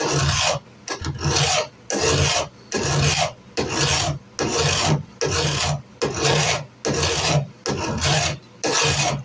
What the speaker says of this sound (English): So all I really got to do is just work with it, file it.